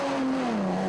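A Suzuki 4x4 engine at full throttle in an off-road bog challenge during an NZ Suzuki Xtreme round, revving loudly and steadily with a gradually falling pitch over about a second, with no talk.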